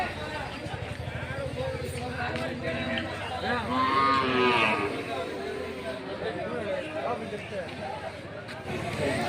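Cattle low at a temple cattle fair where about 130 cows are gathered, a drawn-out moo rising near the middle over a steady hubbub of crowd chatter and livestock noise.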